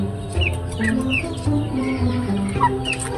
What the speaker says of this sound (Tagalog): Mga manok niya na mga matataas yung yung paa.